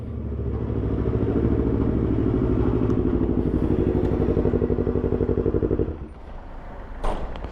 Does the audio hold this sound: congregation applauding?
no